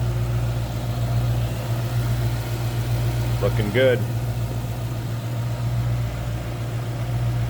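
A low-mileage 2012 Ford Mustang GT Premium Convertible idles with a steady, even low rumble throughout, while a person briefly speaks over it midway.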